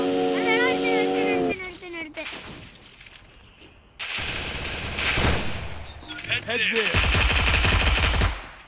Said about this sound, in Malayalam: നീ ചുമ്മാ ആവശ്യമില്ലാതെ വെടിവെക്കല്ലോ